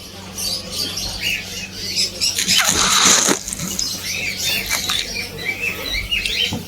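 Many birds in a large bird shop squawk and chirp at once, a busy, close chorus with a loud burst of flapping and screeching in the middle and continuous twittering throughout.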